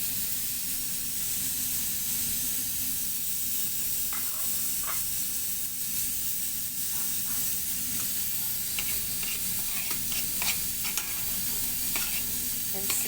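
Cumin seeds sizzle in hot oil in a pan, a continuous close, bright frying hiss with scattered small pops and crackles and occasional stirring, no voices.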